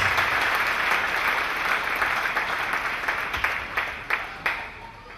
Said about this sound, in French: Clap for Lord Jesus Christ